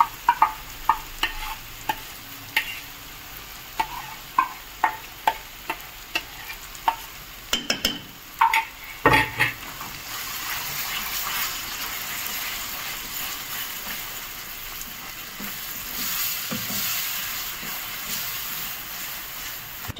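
Spices in a pan for a Gujarati cashew-garlic curry get a spoon scraped and clanked against them in sharp, spaced knocks. Then tomato-onion gravy goes in and a steady, close hiss of sizzling takes over as it is stirred.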